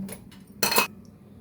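A kadai pan is set down on a stove, giving one brief, close metallic clatter preceded by a couple of faint light clinks, then quiet.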